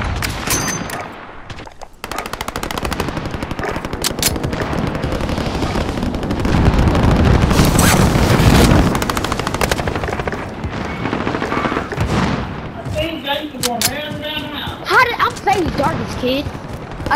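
Dense gunfire in Call of Duty: Modern Warfare, with bursts of automatic rifle fire, single shots and booming impacts over a loud, sustained battle mix, and a brief calmer stretch near the end.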